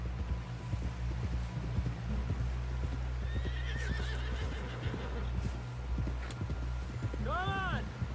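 Horse hooves clip-clopping in the video game Red Dead Redemption 2, a quick, low rhythmic patter under a steady low hum, with a horse whinnying near the end and talk mixed in.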